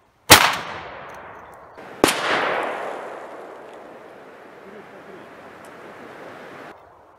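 A shotgun fires test cartridges loaded with Maxam CSB 1 powder, number 1 shot and separately assembled components: two sharp, loud blasts about two seconds apart, each followed by a long, fading echoing tail outdoors.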